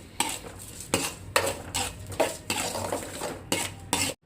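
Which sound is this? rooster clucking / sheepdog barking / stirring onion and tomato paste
stirring onion and tomato paste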